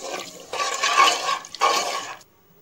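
A glass of water poured into a cooking pot for a pepper salt meat curry, two short splashing gushes of liquid close by, the second ending abruptly into silence.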